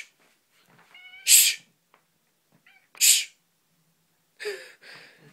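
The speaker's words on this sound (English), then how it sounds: "A little loud kitty." A cat lets out three loud, sharp meows spaced a couple of seconds apart, with quiet rustling between them.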